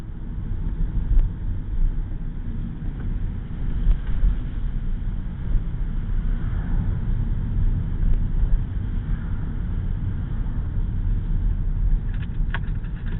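Toyota Prius 3 hybrid driving on electric power with its engine off, giving a steady low road and tyre rumble heard from inside the cabin, with no engine note.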